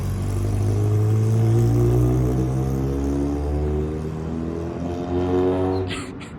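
A rusty Volkswagen Rabbit with a repaired shifter linkage and no first gear drives past, its engine revving loud and close with a rising, sustained drone that fades as it moves away, then a brief clatter at the end.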